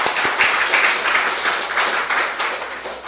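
A church congregation at a Sunday worship service applauding in welcome, a loud, dense burst of clapping from many hands filling the room.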